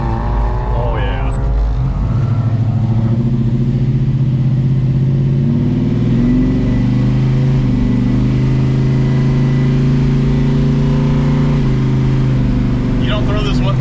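A 1978 Dodge D150 Warlock pickup with a 470 cubic inch big block engine rumbles and revs steadily close by, its low pitch rising and falling as it drives, with voices talking over it throughout.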